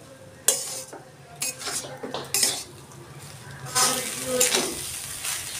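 Leftover rice being stir-fried in a pan, with a spatula clanking and scraping against the metal in irregular bursts over a light sizzle, close and moderately quiet.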